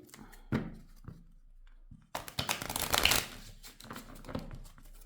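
Tarot deck with major and minor arcana mixed together being shuffled by hand, a brief riffle early on, then a louder, sustained run of papery card shuffling and flicking close by, with no talk.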